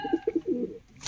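Pigeons at a pigeon keeper's loft coo in a few short, close, rounded pulses, followed by a brief rustle of handling.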